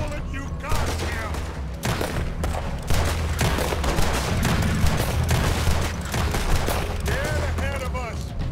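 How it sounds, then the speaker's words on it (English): Heavy, sustained gunfire from several guns in a Red Dead Redemption 2 story mission, dense overlapping shots crackling steadily throughout, with voices and game sounds mixed underneath. "Put every bullet you got here."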